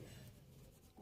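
Faint scratching of a pen or chalk as an equation is written by hand during a maths lesson, quiet and steady with no speech over it.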